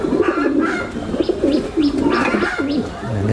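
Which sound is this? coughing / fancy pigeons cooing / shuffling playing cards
fancy pigeons cooing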